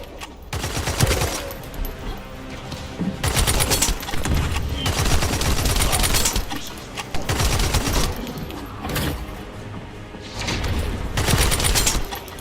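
Rapid bursts of gunfire from a precision weapon in the video game The First Descendant, loud, dense repeated volleys separated by brief pauses, filling the whole stretch.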